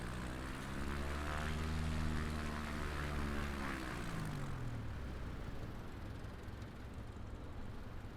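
An American Champion Super Decathlon propeller plane drones through the air in flight, its engine pitch sliding downward as it passes, loud at first and then easing into a steady, slightly fainter hum.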